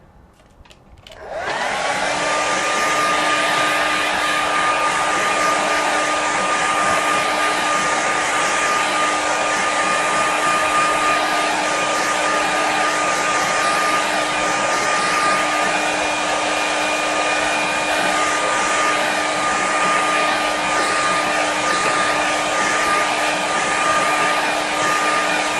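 A hair dryer blows steadily over a watercolour painting, switching on and then running loud and unbroken with a constant whining tone and airy rush, no voices present.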